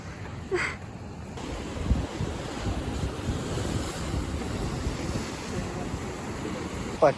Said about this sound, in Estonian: Oleme siin ookeani ääres